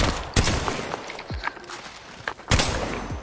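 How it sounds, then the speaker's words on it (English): Gunfire in the Apex Legends video game: two sharp, loud bursts of shots a couple of seconds apart, with scattered footsteps and game noises in between. "Getting shot at."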